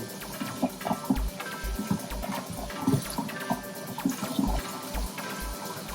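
Dirty aquarium filter sponges are rinsed and squeezed in water, giving close, repeated sloshing and splashing with soft gurgles that come in short, uneven bursts.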